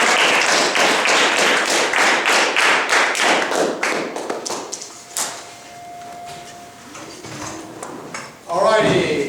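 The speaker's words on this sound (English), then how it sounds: "everybody give them a round of applause" Applause from an audience in a JROTC room, a burst of claps dense at first that thins and fades after about four seconds, then quieter room noise with a faint tone and a short voice near the end.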